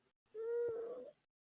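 A single short cat meow, faint and clear against near silence, rising then trailing off in about a second.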